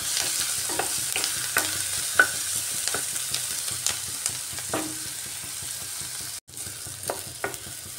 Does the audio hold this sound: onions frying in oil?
yes